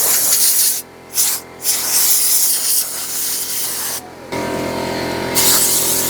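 Compressed air blasting dust off the engine of a barn-find Honda CB750 motorcycle, loud close hissing bursts with brief pauses between them, no voices.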